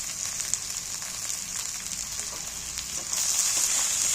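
Small chopped pieces of fat frying with onions in a pan: a continuous hissing sizzle that jumps louder about three seconds in as more goes into the hot oil.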